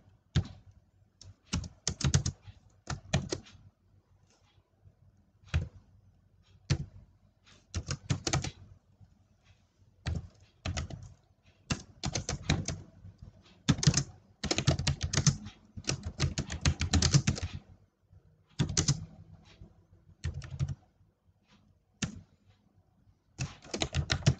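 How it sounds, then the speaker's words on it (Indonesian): Typing on a computer keyboard, with bursts of key clicks in irregular runs broken by short pauses, fairly close and clear, with no talking over it. "kita ketikkan aja"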